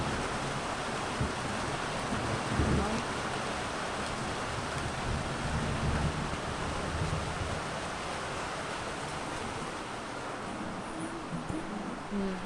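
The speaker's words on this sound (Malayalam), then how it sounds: "മഴ തുടങ്ങിയിട്ടുണ്ട്." Steady heavy rain pours throughout, a dense broadband wash with a faint low rumble of thunder partway through, continuous and close with no voices.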